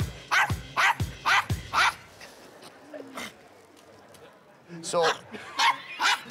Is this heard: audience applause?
no